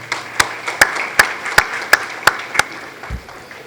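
Slow, evenly spaced claps ring out one at a time, about seven sharp near claps in a steady rhythm, at a building-industry awards night.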